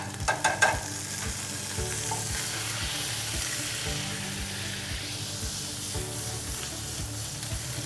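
Garlic sizzles in a hot pan. A few clattering knocks open the sound, then a steady, moderately loud frying hiss continues to the end with occasional light crackles.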